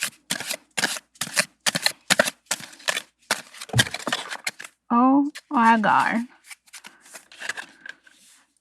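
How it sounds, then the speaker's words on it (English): Affirmation cards are shuffled up close in a quiet room: a rapid run of crisp, regular riffling snaps, then a brief spoken exclamation, followed by a few more scattered card flicks. "Let's cue some ASMR shuffling."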